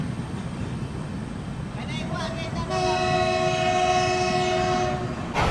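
Kolkata–Sairang Express train running, with clattering rail noise underneath, then a long, loud horn blast sounding for several seconds before cutting off, while voices chat in the background.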